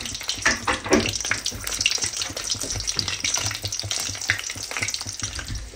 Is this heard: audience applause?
no